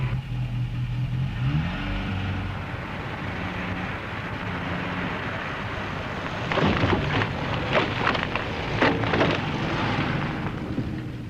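Lightweight car driven at 30 mph at a 25-degree angle into a crash-test barrier rail, a low engine rumble building before a cluster of sharp metallic impact bangs and scrapes, fairly close, with no talking.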